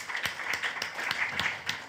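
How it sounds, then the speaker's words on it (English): Audience applause during a podcast recording: a modest, fairly sparse clapping with distinct individual claps standing out in a loose rhythm, moderately quiet and steady, with no speech over it. "A round of applause."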